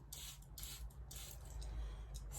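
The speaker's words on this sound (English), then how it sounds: "Now we're getting a little bit of spray action here." Repeated short hissing bursts of water misted from a spray bottle onto a swipe painting, several quick pumps in an uneven rhythm over a steady low background hum.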